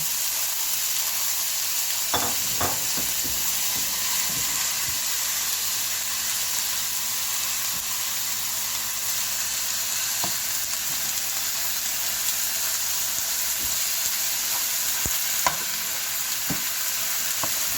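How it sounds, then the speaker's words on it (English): A large batch of ground beef fries and browns in a pan, giving a steady close sizzle throughout, with occasional stirring scrapes and knocks early on and near the end, no voices. "I'm gonna let this cook for maybe 10 minutes because it's a lot. Let's cook it until it's brown."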